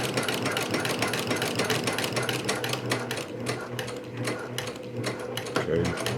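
A sewing machine stitches a seam on a pair of pants, with continuous close mechanical whirring and rapid clatter throughout, including a back stitch, and faint talk underneath.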